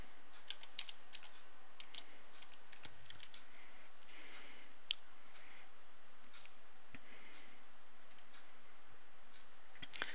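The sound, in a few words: typing a folder name on a computer keyboard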